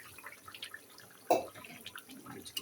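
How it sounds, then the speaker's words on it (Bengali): Pangas fish pieces drop into a pot of boiling water with a single soft splash midway, against a faint background of quiet bubbling and drips. "এখন আমি মাছগুলো ঢেলে দেব"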